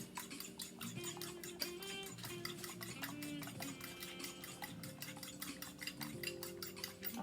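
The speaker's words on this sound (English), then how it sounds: "we're going to beat our 3 eggs up" Three eggs beaten in a bowl for meatloaf, a steady fast clatter of utensil against bowl running continuously under faint background music, close and moderately quiet.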